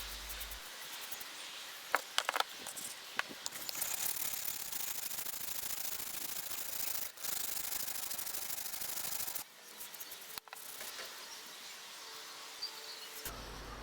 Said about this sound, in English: Next, we'll flatten the back side of the cutting iron.